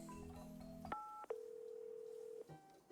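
Telephone dialing in a video game: a run of touch-tone keypad beeps, then a single long steady tone, clear and close with no talk.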